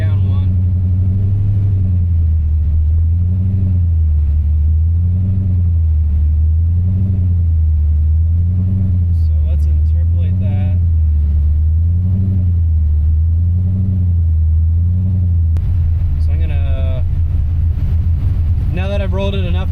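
An LS V8 swapped into a Mazda RX7, idling while its Holley Terminator X is tuned: a loud, close, lumpy low rumble that rises and falls in a steady slow rhythm, with a brief rev near the end.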